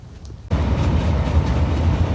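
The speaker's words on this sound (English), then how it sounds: "there's the L train I was talking about" After a brief quiet moment, a Chicago 'L' elevated train suddenly roars into earshot near Graceland Cemetery, its wheels rumbling and clacking loudly and continuously as it passes close by.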